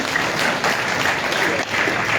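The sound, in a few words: audience applause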